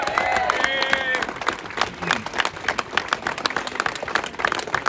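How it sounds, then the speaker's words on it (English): A crowd applauds veterans at a rally in support of farmers, with dense clapping and cheers and a voice speaking over the start, settling into scattered individual claps. "Give them a big round of applause"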